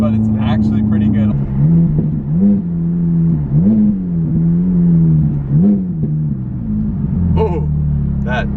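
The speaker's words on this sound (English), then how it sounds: "Oh, that downshift sound though." A Ferrari F430 with a straight-pipe, muffler-delete exhaust idles loud and close, then blips through several downshifts in rising and falling rasping surges before settling back, with brief voices at the start and end.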